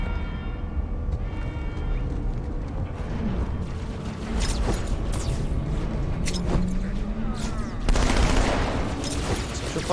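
Gunfire in Halo 2 sounds as scattered shots and short bursts among mechanical clanks and a low rumble, growing denser and louder toward the end.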